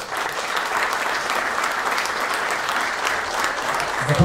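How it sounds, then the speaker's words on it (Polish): Audience applause at a sports gala, sustained and even clapping from a large crowd with a slight swell near the end. "Gorące brawa."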